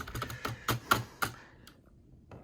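Quick clicking keystrokes on a Razer computer keyboard, a rapid burst of taps that slows and then trails off, close and fairly quiet.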